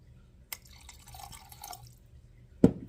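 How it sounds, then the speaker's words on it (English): Water is poured into a pot of stuffed pepper soup, heard as a soft trickling splash, then a single louder drip-like plop near the end, close and quiet with no talking. "I'm going to add a little bit of water."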